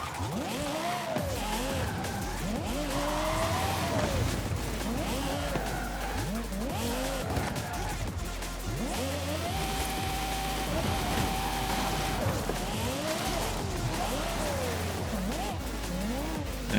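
Engine roar of a car driven in Forza Horizon 5 on a Japanese trail, revving and shifting continuously with tire squeal and skidding, loud and steady throughout with no talk.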